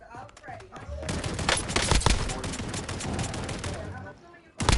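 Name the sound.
gunfire in video game Call of Duty Warzone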